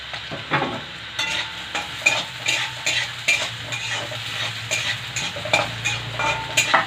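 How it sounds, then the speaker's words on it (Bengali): Cut potatoes frying in a pan are stirred over and over, making a rhythmic scrape and clatter of utensil on metal above a steady sizzle, close and fairly loud with no talking. "এবার আলু কুটে দিয়ে দেবো"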